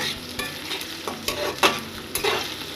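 Onion and green chillies frying in hot oil while being stirred in a pan, a steady close sizzle broken by several distinct scraping strokes of the spoon, with no voices.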